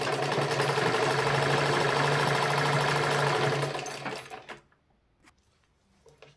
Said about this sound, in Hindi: तो बस मैं वहीं तक सिलाई करूँगी।